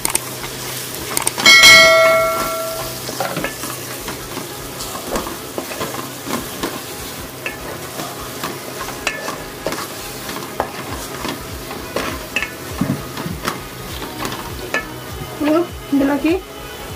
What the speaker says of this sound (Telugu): ఇది కొంచెం నూనెలో ఫ్రై అవ్వాలి.